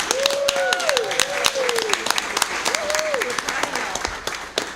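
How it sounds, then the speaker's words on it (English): A school board meeting audience gives a round of applause for region music students, steady clapping throughout with a voice speaking over it at times. "So let's give them a round of applause."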